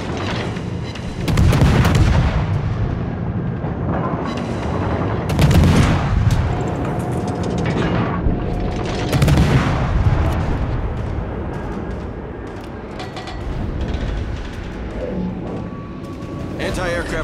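Rapid anti-aircraft machine-gun fire from the cruiser Atlanta in World of Warships, loud bursts recurring every few seconds over a continuous rumbling battle din.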